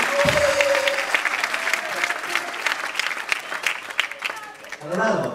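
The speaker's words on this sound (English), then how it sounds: "Right, and a big hand for George, please" Steady crowd applause fills a rock festival show from 1999, dense and sustained for several seconds while an announcer's voice speaks over the clapping.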